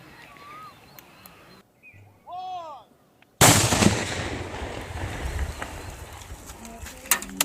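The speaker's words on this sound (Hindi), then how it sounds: "उनको विस्फोट कराकर डिफ्यूज कर दिया गया" Seized crude bombs in Birbhum, West Bengal, are detonated by a bomb squad: a sudden loud, close blast bursts in after quieter moments and rolls into a long rumbling, crackling tail.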